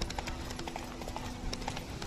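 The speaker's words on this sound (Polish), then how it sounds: "Siądźmy sobie na konia." Horse hooves clip-clop in a steady trotting rhythm as a rider travels in the video game The Witcher 3: Wild Hunt, soft and mid-distance over a low ambient bed.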